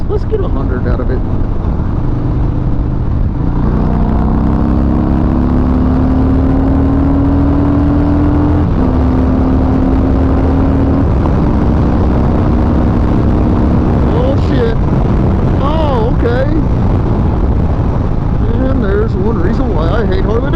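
A 2020 Harley-Davidson Fat Bob motorcycle is ridden at speed, with a loud, constant roar of engine and wind throughout, the engine note rising and shifting as it accelerates.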